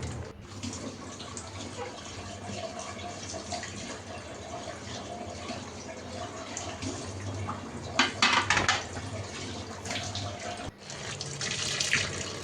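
A kitchen tap runs steadily into a sink while eggs are washed, a close, continuous stream of splashing water that briefly grows louder near the end.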